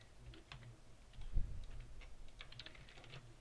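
Soft, light taps on a computer keyboard come in a short, uneven burst at close range, fairly faint, with no voice.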